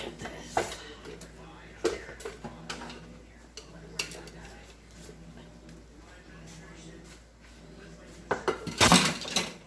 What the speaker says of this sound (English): So we'll whisk.